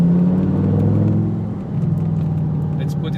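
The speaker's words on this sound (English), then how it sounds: "You can hear the exhaust a little bit" An Audi R8 V10 exhaust rumbles at a steady, fairly loud low drone, easing slightly midway, with a person talking over it throughout.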